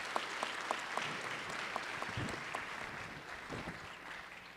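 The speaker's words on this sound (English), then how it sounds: "A quick round of applause for our Waianae Elementary students and staff." A brief round of applause in a state House chamber for visiting elementary school students and staff, moderate and somewhat distant, with a few sharper claps standing out before it tapers away.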